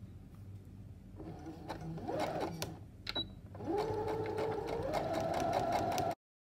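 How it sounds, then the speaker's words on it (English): Sewing machine top-stitching around the neckline of a little girl's dress, running in two steady bursts with a short pause between them and then stopping abruptly. "I'm going to just give it a top stitch all around the neckline"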